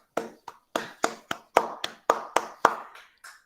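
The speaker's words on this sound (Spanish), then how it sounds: "Ahora los invito a todos que demos un aplauso como para cerrar el..." Closing a university lecture, a few hands clap in sharp, separate strokes, about a dozen spaced claps in a loose rhythm, close and distinct rather than a full crowd's roar.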